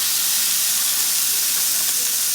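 Three pounds of ground beef brown in a large hot skillet over medium heat, with a loud, constant hissing sizzle that holds steady throughout.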